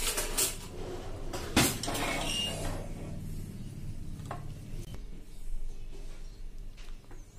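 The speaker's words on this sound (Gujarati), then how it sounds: "હવે આપણે આ લાપસીને વેલણથી ચલાવી લેશું" A wooden rolling pin stirs cooked wheat lapsi inside a pressure cooker, making close scraping and knocking sounds against the metal pot with occasional sharper clanks.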